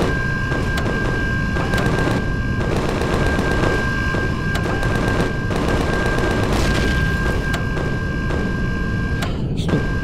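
A pop gun turret in the video game Empyrion fires loud rapid bursts, stuttering volleys repeating in quick rhythm for about ten seconds over a steady high electronic tone, with no talking.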